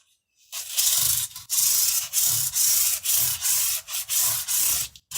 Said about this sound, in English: you wrap the paper around your finger, and then that you use as your sanding block